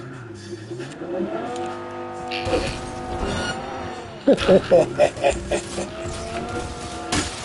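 A stolen car driven in Cyberpunk 2077, its engine revving and shifting with whining tones, then rapid bursts of rumbling acceleration or impacts near the end, heard under a voice talking.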